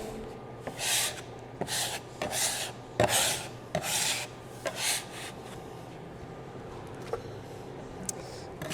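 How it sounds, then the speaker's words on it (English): A bench scraper rasps excess flour off a board after rolling pumpkin gnocchi dough made with ricotta, egg, flour and cheese: about eight short, close scraping strokes in an uneven rhythm, with no talking. "a bench scraper works really, really well for doing gnocchi. So we'll kind of get rid of all of that excess flour."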